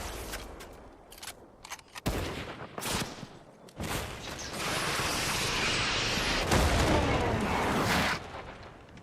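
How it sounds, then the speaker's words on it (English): Rifle shots and gunfire in an online shooter video game crack out in sharp separate bursts, then give way to a long sustained roar of firing and explosions, loud and close, with voices talking over it. "I sniped one, got him for 110."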